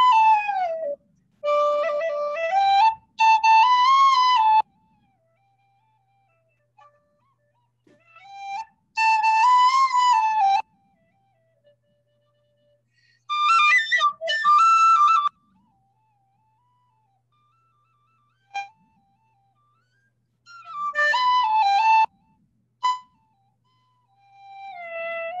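A carbon fiber D penny whistle plays a lilting slip jig in bright, breathy bursts of ornamented notes, several phrases separated by near-silent pauses, solo and close.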